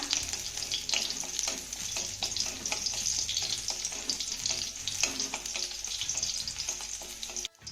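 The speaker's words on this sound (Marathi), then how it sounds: "आता हा लसूण आपण चांगला सोनेरी रंगावर परतून घेऊया" Crushed garlic frying in hot oil in a wok makes a steady, close sizzle and crackle throughout, with a spoon stirring and scraping now and then before the sound cuts off abruptly.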